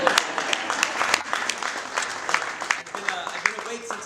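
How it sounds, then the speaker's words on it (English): Enthusiastic applause from an outdoor event crowd, rapid dense clapping with scattered sharp claps standing out throughout. "everyone should give themselves a round of applause for coming out"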